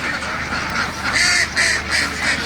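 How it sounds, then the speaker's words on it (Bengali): Ducks quack in a series of loud, nasal calls close by, several overlapping bursts over a constant background hiss. "এই হাঁসগুলো বাচ্চা যখন ছিল তখন এই হাউজের মধ্যে ছিল"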